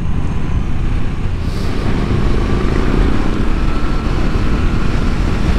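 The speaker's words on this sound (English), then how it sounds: "I don't know what my audio is going to be like because it's just so windy" Steady, roaring wind buffets the microphone on a Moto Guzzi V85TT motorcycle riding scenic country roads, a dense low rumble mixed with engine and road noise that continues unbroken throughout.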